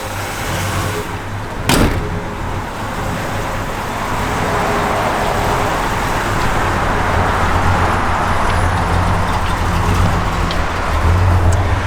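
A 1965 Mercury Comet Caliente convertible's 289 V8 idles with a steady, deep rumble that stays close and even throughout, broken by one sharp knock near the start.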